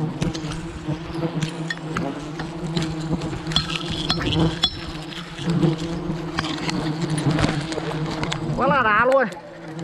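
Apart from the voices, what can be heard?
wild honeybees buzzing around a hive in an old banyan tree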